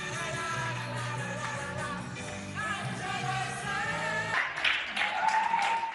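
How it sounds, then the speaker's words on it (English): Quarantined residents in Spain clap from their windows and balconies for health workers, a broad, sustained wash of applause echoing between buildings, with scattered shouts and whoops rising near the end. "standing at their windows to deliver a rousing round of applause to the country's health workers"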